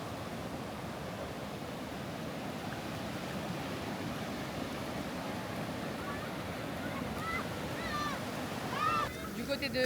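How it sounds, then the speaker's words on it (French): Ocean surf at a Bali beach gives a steady broad roar of waves with wind, continuous and close, and faint chirping sounds come in near the end. "Les vagues là, c'est vraiment pour les surfeurs."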